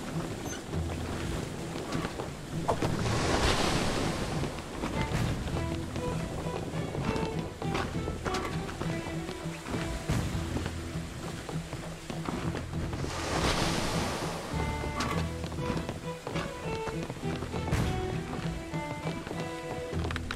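Ocean waves and wind wash around a sailing ship in the pirate video game Blazing Sails, a continuous rushing surf that swells twice into louder surges amid scattered creaks and taps.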